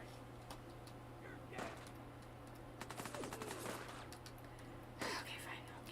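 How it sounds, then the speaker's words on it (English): Gunfire in the video game Fallout 4, with quiet, intermittent bursts of rapid shots over low background talk. "Very rude to come shooting at me."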